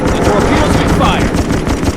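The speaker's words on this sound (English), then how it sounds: "this deck gun has a lot of damage, or a lot of range." A submarine deck gun fires in the Xbox 360 naval combat game Naval Assault: The Killing Tide, producing loud, continuous crackling bursts of gunfire that fill the whole moment with dense, rapid reports.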